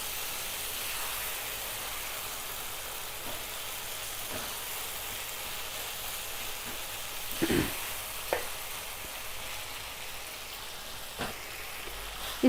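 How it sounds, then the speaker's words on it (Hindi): Mutton keema is mixed into masala in a pan, giving a continuous sizzling hiss like light rain. A few sharp knocks of a spoon against the pan stand out, and no one speaks. "इसमें हम अभी मटन का कीमा यूज़ करेंगे। इसे भी अच्छे से मिक्स करेंगे।"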